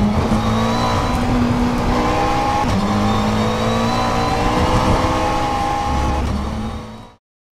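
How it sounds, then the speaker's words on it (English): A McLaren 720S in a racing simulator game gives a loud, continuous engine drone with a thin, synthetic, stretched tone, holding steady for about seven seconds before cutting off abruptly. "The 720S sounds bizarrely synthetic, artificially stretched and very unimpressive"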